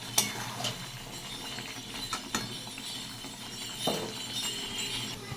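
Potatoes fry in spiced oil in a pan, giving a soft, quiet sizzle, while a spoon scrapes and clinks against the pan in irregular stirring strokes.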